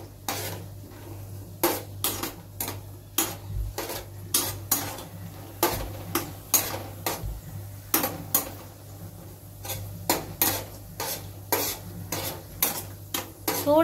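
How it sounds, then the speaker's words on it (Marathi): Cashews frying in a pan over low gas, with a steady soft sizzle under frequent rhythmic scrapes and clicks of a spoon stirring against the pan, close and moderately loud throughout. "काजू आपल्याला बारीक गॅसवरती तळून घ्यायचे आहेत,"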